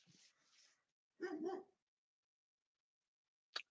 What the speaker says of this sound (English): that's my puppy, one of my puppies.